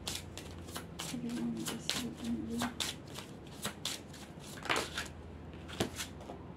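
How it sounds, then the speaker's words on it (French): Tarot cards shuffled and drawn by hand, a steady run of quick papery riffles and flicks at close range, with a faint voice murmuring underneath. "je sais pas pourquoi je dois tirer ces cartes"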